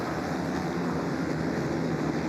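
Several motocross bike engines rev together at the start gate of the 2020 Loretta Lynn's Pro Motocross race, a steady loud droning roar with no break and no talk.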